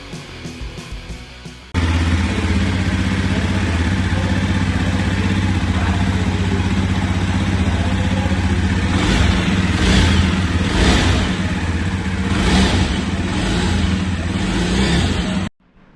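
A 2022 Yezdi 42 Bobber motorcycle engine starts up and runs loud and close, idling steadily with several sharp revs in the middle, then cuts off abruptly near the end.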